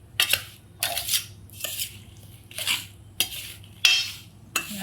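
Lemon pickle being stirred in a metal pot or bowl with a spoon, giving a series of about seven rhythmic scraping clinks, close and fairly quiet with no voices.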